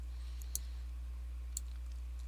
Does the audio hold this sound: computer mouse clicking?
yes